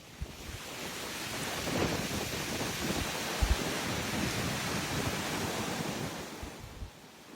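Typhoon Wipha's storm winds and churning surf near Hong Kong, a steady loud roar of gusting wind and crashing waves with low rumbling buffets and no voices.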